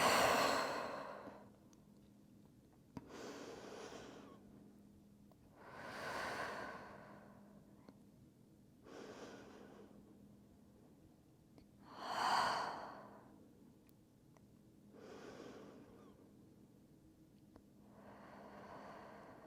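Slow, deep breaths during a yoga child's pose, about six long inhale-exhale swells spaced a few seconds apart, close and soft with a faint background hum.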